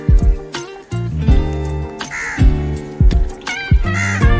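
Crows cawing repeatedly and loudly nearby, harsh rhythmic calls in quick bursts with several birds overlapping, no talking.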